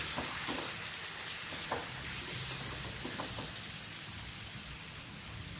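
Chili paste and salt sauté in a pan for a Kerala wedding-style fish curry, a quiet, steady sizzle broken by a few soft stirring scrapes.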